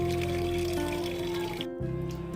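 Water pours and trickles steadily onto rooftop garden plants, a continuous close splashing flow that briefly cuts out near the end before resuming.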